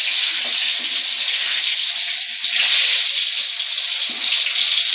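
Potatoes frying in mustard oil in a wok give off a loud, steady hiss and sizzle that holds for the whole stretch, with no voices.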